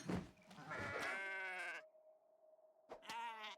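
A goat in the video game Kenshi bleats twice, a long wavering cry followed after a short pause by a second shorter one, clear and close.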